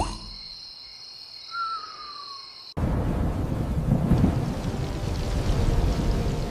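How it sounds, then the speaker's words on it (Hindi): Heavy rain pours steadily through a cold stormy night, with low rumbling thunder beneath the dense hiss. It bursts in loudly after a quieter opening with a faint high tone, then holds a constant wash with no voices. "सुबह कोहरा घना है और बारिश अब भी जारी है।"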